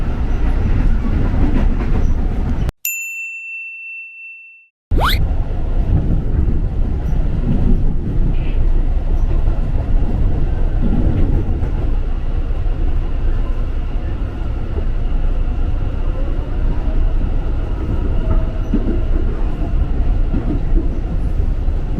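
Inside a commuter train heading to Manggarai station in Jakarta, a loud steady rumble of wheels and cabin noise, broken by a short electronic chime and a moment of quiet before the rumble resumes.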